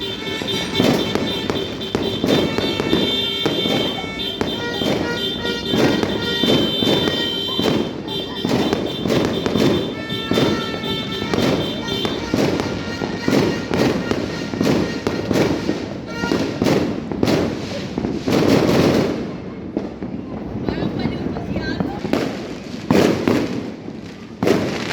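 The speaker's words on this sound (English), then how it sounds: "More fireworks there." New Year fireworks going off across a residential neighborhood in the Philippines, a dense run of booming bursts and crackling firecracker pops, some near and loud, others farther off, with voices talking in between.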